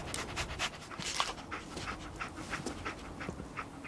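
A dog pants steadily and rapidly in Fallout 4, with quick rhythmic breaths close up and no talking.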